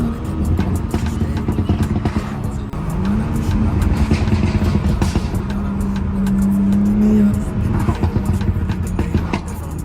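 A stock BMW 340i with the B58 engine and an M Performance exhaust in sport mode, no downpipe, revs up in loud, close bursts, holding steady drones between throttle blips.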